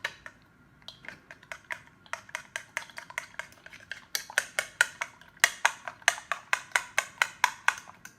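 A whisk or utensil beats egg with salt in a bowl, a steady run of quick clinking taps against the side that grow louder and faster toward the end, with no talking.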